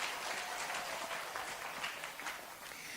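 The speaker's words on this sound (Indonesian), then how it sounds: "Tepuk tangan dhisik kok." Audience applause at an Islamic religious gathering, a steady, moderately faint wash of clapping from a crowd with no talking over it.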